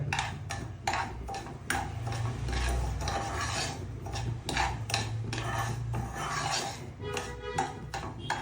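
Semolina (rava) roasting in a pan on a low flame, stirred slowly with repeated scraping and rasping strokes over a low hum.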